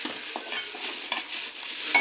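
A spoon stirring spicy crab curry gravy in a pot, soft wet scraping and gentle bubbling sizzle in short repeated strokes, fairly close and quiet.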